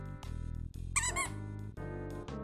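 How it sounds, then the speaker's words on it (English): Squeaky dog toy giving a short burst of shrill, rubbery squeaks in the middle, set against steady tonal background music that carries on before and after. "It's a squeaky dog toy."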